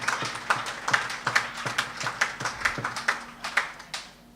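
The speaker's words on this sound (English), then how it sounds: "could you give a round of applause to the shy guy?" Sparse, rhythmic hand claps from an audience at a track and field meet launch event, a steady series of sharp individual claps at moderate distance with no voices.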